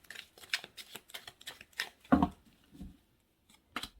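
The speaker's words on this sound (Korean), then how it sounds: "5장의 카드 뽑아보도록 할게요" Tarot cards are drawn and laid out one by one, heard as soft, close card flicks and rustling taps in an irregular sequence, with a louder thump in the middle and brief pauses between draws.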